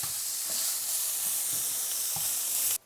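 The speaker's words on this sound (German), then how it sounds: "Den brutzel ich jetzt einfach so ein bisschen von links und rechts von allen Seiten an" Salmon searing in a hot pan for a quick creamy salmon pasta sauce gives a steady, close, continuous sizzle and crackle with no talking, ending in a brief clatter.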